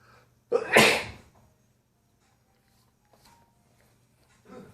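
One loud, close sneeze bursts out sharply and fades quickly, followed by near silence and faint small rustles.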